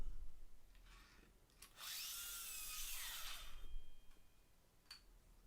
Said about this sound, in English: And I cut these pieces out with the miter saw.